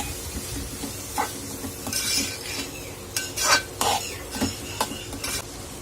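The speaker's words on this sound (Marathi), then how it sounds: "तुरीच्या डाळीलाही परतवून घेणार आहोत आधी आपण" Toor dal is stir-roasted in a pan, with dry scraping and rattling from a spatula in irregular bursts over a low sizzle, close and with no voices.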